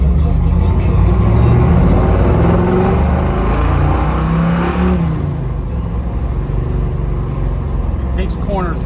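A 1969 Chevrolet Nova 427 with fuel injection accelerates hard from inside the cabin. The loud engine rises in pitch through the revs, eases off and then settles into a steady drone.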